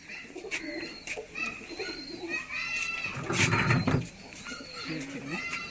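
Pigeons coo in a loft, several low throaty calls overlapping close up, while people talk and children's voices are heard around them.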